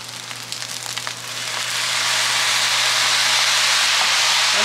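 Soy sauce hits fried rice with Chinese sausage in a hot pan, bursting into a loud, steady steam-like sizzle that swells after a quieter start and holds strong to the end.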